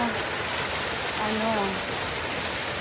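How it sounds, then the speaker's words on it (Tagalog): Waterfall at East Dragon Stream, a loud, constant broadband rush of falling water close by, with a brief faint voice-like tone partway through. "Maganda na yung waterfalls dito guys"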